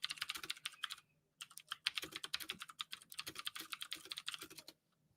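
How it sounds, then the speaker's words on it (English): Rapid typing on a computer keyboard, close and clear, with bursts of key clicks broken by a short pause and trailing off near the end, with no talking. "I'm typing for you guys."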